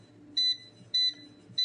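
An air fryer's control panel gives three short electronic beeps at an even pace while its timer is being set for boneless, skinless chicken tenders, each tone clear and close over a faint low background hum.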